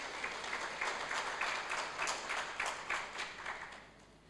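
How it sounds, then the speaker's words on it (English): Audience applause at a celebration: a moderate, fairly distant wash of many hands clapping with a loose pulsing rhythm, fading toward the end. "So a huge round of applause for all their efforts."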